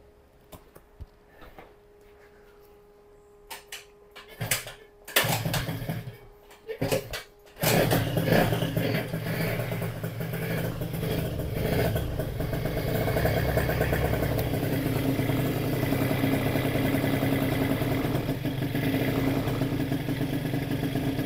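A two-stroke Piaggio Zip scooter under repair gives a few clicks and sputters, then catches and settles into a steady, buzzy idle that runs loud and close to the end.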